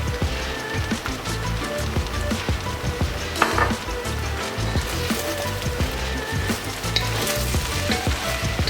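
Vegetable fried rice sizzles loudly in a hot pan as sesame oil goes in, a steady crackling fry broken by scraping and clattering stirs of the utensil against the pan.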